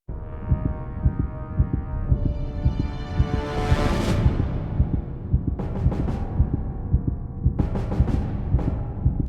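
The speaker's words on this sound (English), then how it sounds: "sorry for the constant heartbeats in the background" Constant heartbeat in the background of the Malice beta build of a video game, a steady low thumping pulse running throughout under swelling tones, fairly loud and close with no voices.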